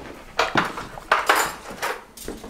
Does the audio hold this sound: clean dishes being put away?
yes